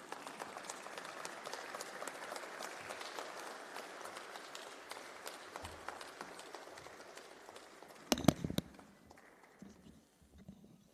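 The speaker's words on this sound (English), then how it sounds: "a very big hand of applause as I humbly invite the Honorable Minister to give us her address" Audience applause for the Honorable Minister at an ICT summit, a quiet, dense patter of many hands from across a hall, ending with a few louder bumps and then falling off.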